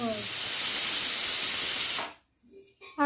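A pressure cooker whistle releases a loud, steady hiss of steam for about two seconds, then cuts off abruptly, leaving faint kitchen clatter.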